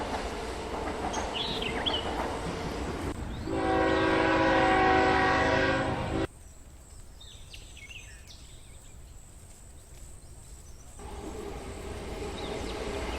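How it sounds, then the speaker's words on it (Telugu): A passing train rumbles steadily, then a sustained horn blast sounds for a few seconds, after which the noise drops to a quieter rolling hum and swells again near the end. "ఇక ట్రైన్ చాలా ముందుకు వెళ్లిపోతుంది."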